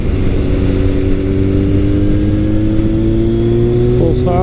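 A Kawasaki ZRX1200R motorcycle fitted with an ART exhaust rides through twisty roads, its engine note holding a loud, steady drone that rises slightly in pitch, with a brief burst near the end.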